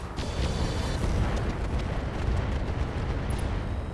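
Mech weapons in the RogueTech game unloading on a Warhammer 2C, a heavy rumbling barrage of blasts and booms rolling together over several seconds, loud and continuous.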